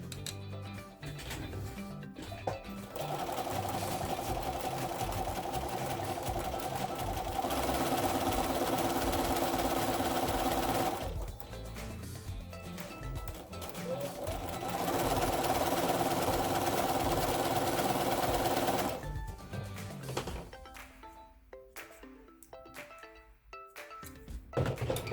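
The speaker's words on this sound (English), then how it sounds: "I always sew from the point to the corner" A home sewing machine chain piecing quilt block pieces runs in two long steady whirring bursts, close and loud, with a short pause and light handling sounds between them.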